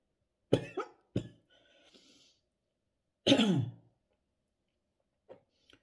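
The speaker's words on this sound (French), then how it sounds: "j'ai envie de tousser en plus" Two sharp coughs from a woman close by, then a faint throat sound and a third, longer harsh cough after a pause, with small clicks at the end; no talking.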